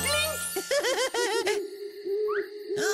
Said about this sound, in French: Ah oui, c'est Monsieur Hibou.